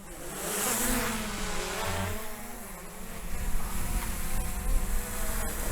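A small drone flies close outdoors, its steady buzzing whine with wavering pitch rising and falling as it moves, loud and continuous under wind noise.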